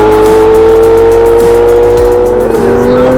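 A Ferrari 812 fitted with a loud Novitec exhaust tears past at around 300 km/h, a sustained, very loud high-revving engine howl that shifts pitch as it passes close by.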